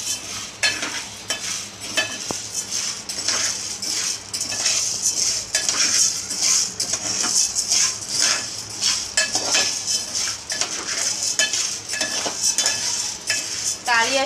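Chana dal dry-roasting in a pan for chakli bhajni, stirred continuously with a spoon: steady dry scraping and rattling of grains against metal with frequent clinks, close and alone for the whole stretch.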